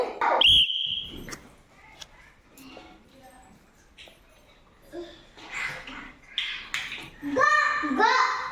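A shrill whistle blast, sharp and close, followed later by a couple more warbling whistle tones, with children's voices chattering between them.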